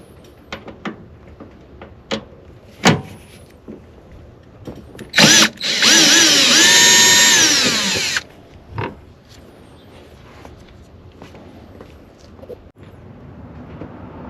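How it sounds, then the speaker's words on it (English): A 13 mm bolt retaining the airbox mount on a 2007 Dodge Ram 1500 5.7 Hemi comes out with a loud power-tool whir lasting a few seconds, framed by scattered clicks and clanks of nearby work. "Remove the 13 mm bolt that retains the airbox mount."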